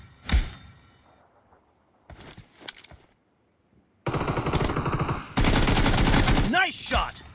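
Gunfire and bursts of automatic weapon fire in the BGMI battle royale mobile game: a few scattered thuds and shots, then loud dense rapid firing for the last few seconds, with a brief game voice near the end.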